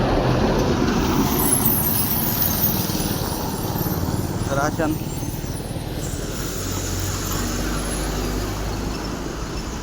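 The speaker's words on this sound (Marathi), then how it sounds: "हा आंबेठाण रोड आहे. इथून ट्रक बी येत राहतात." Traffic rumbles along Ambethan road with trucks passing, a loud steady engine drone and road noise close by, while a person speaks briefly over it.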